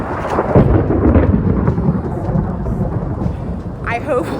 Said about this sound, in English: And it's raining and lightning.